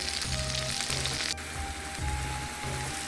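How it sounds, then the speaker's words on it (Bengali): Boiled new potatoes fry in hot oil for biryani, a steady, fairly loud sizzle close up, with a low background hum and no speech. "এখানে সিদ্ধ আলুগুলো একটু ভেজে নেব"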